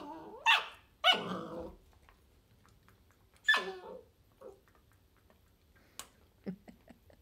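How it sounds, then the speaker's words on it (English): Two dogs, one growling low and another letting out a few sharp barks, close by in a quiet room, with brief pauses and small clicking noises in between. "She's growling at you."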